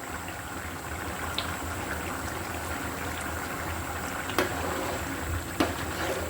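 Mung dal with chicken gizzard and liver boiling in a pot, a steady close bubbling hiss with scattered soft pops and two sharper clicks near the end, no voices.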